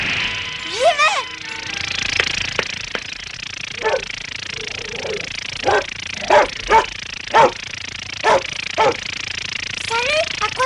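A cartoon dog barks in a series of short, evenly spaced yaps, with a few higher yelps early on, heard over steady background music.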